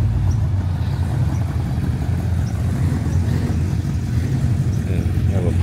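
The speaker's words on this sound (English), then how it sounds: "we have a pick'em up truck coming in front of the Corvette" At a Coffee N Clutches car meet in Antioch, a pickup truck rolls in past parked cars, its engine a steady low rumble close by for the whole stretch, with faint background chatter.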